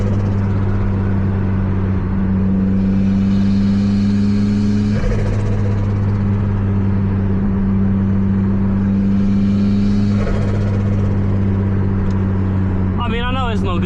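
Toyota MR2 Turbo engine droning steadily from inside the car, with two surges of revving acceleration and lifts between them, loud and continuous under someone talking.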